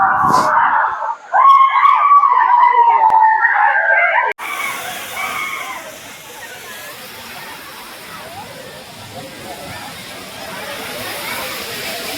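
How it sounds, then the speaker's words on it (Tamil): Kumbhavurutty waterfall in Kerala during monsoon pours with a steady, broad rushing roar. It follows a few seconds of loud voices and shouting, then continues alone at an even level. "தண்ணி செம்மையாக வருதா ஃபால்ஸில்"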